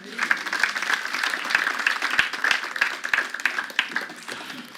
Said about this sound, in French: On peut encore les applaudir, merci à eux.